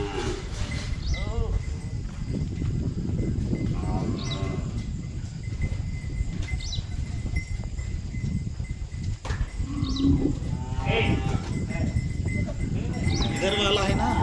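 Cows passing by with cowbells ringing and hooves clopping, a steady nearby jangle throughout, with people talking over it.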